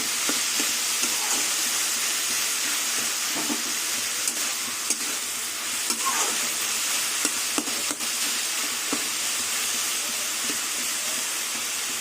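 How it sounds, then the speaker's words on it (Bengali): Chopped ash gourd sizzles steadily in a hot pan while being stirred, making a constant close frying hiss with scattered light clicks and scrapes of the utensil. "চাল কুমড়োগুলো একটু খুঁটি দিয়ে ঘেটে দেবো"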